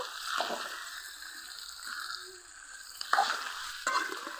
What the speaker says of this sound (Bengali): কিছুক্ষণ কষিয়ে নিয়েছি এখন ভেজে রাখা মাছের মাথাটাও দিয়ে দিব